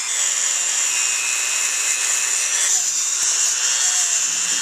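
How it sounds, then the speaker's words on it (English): Little Dremel rotary tool spinning a brush attachment to clean 1995 Suzuki Sidekick engine parts during a lower engine rebuild, giving a steady high-pitched whine that holds at an even, fairly loud level throughout. "I'm just like taking my time and using this little Dremel. Put a brush on the end."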